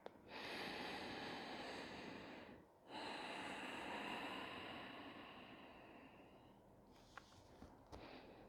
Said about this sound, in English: Full breaths in, full breaths out.